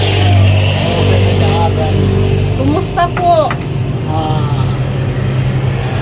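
Passing road vehicles rumble steadily right beside a roadside house, a continuous low engine drone with a swell or two as traffic goes by, while people talk over it close by.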